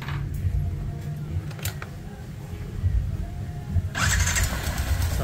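An overhauled engine runs during a sound test in a workshop, a steady low mechanical drone throughout with a brief rise in intensity near the end, close and fairly loud, no clear speech.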